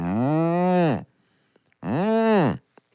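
Two long, loud cow moos with a falling pitch, separated by a short silence, clear and close with nothing else behind them.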